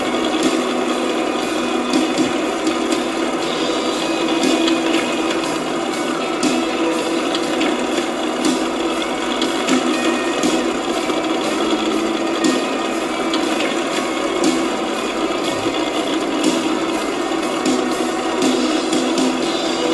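A haymaker farm machine runs in the Professional Farmer 2014 video game, giving a steady, unbroken mechanical whirring with a faint ratcheting clatter that holds at an even loudness throughout, with no voices.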